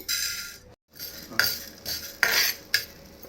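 Toor dal and coriander seeds dry-roast in a pan while a metal spoon scrapes and clinks against it, giving several sharp scraping strokes with short pauses between them, close and fairly loud.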